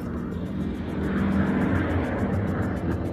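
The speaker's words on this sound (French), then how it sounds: "Comme cet avion qui s'approchait. Elle entendait le moteur rugir." Airplane engine roaring as it approaches, a droning rumble that swells in loudness toward the middle and holds steady, fairly close.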